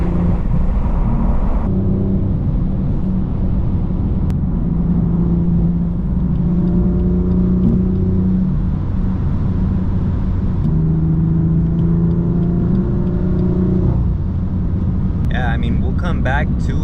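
A BMW M4 F82 fitted with lowering springs drives along with a steady engine drone and rising, falling revs, heard from inside the cabin as a loud, continuous rumble.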